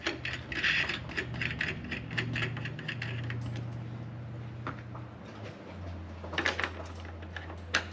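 A vise is cranked tight around a 1956 Coleman 220E lantern that shows fire damage, giving a series of close metallic ratcheting clicks and clanks over a low steady hum, with no talking.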